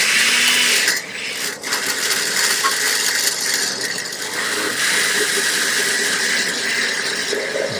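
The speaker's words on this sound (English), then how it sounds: "I proceed to liquefy my ingredients in the blender with the help of as much stock as is needed." A blender runs steadily, liquefying mole poblano ingredients with stock, a loud continuous whirring grind that dips briefly near the start and then holds a constant churning drone with no talk.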